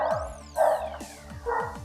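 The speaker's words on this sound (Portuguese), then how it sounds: "Os latidos?" Several dogs barking in repeated short yips and barks, somewhat distant and moderately loud, layered over background music and sound effects.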